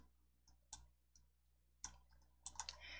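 Quiet mouse clicks in PowerPoint while opening the shape effects menu: several short, sharp, isolated clicks spaced irregularly, then a quick cluster of clicks near the end, all close and faint with no talking.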